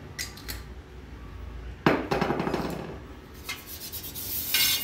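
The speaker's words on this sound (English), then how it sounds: "Now for that we'll oil the pan, pizza tray." Oil is rubbed and brushed across a non-stick pizza tray in a home kitchen, making soft scraping, rasping strokes with a denser burst of rubbing midway and lighter metallic touches after.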